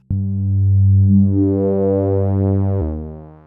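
Sustained, buzzy synthesizer tones from a Behringer 2-XM hold steadily for a few seconds, shifting slightly in pitch before cutting off and fading out.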